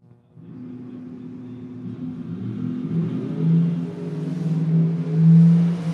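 A dragster at a memorial drag race rumbles into a rising roar as it launches down the strip, building in loudness with a couple of surges in engine pitch, heard from a distance without talk.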